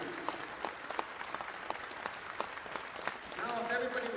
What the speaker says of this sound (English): Nice round of applause for our veterans.